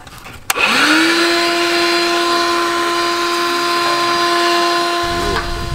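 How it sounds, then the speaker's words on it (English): A small handheld vacuum cleaner switches on after a sharp click and runs as a steady, loud whine with a strong tonal hum, close to the microphone, continuing alone until a brief rustle near the end. "And I just brought out my little vacuum."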